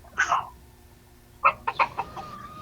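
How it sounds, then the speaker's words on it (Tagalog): A chicken clucks in a few short bursts nearby, with quiet background noise between calls. "May manok ka, kuya."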